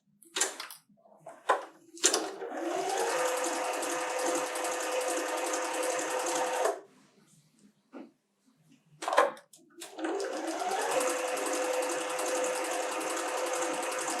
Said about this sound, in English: let me get to sewing. Okay. I do backstitch a couple stitches.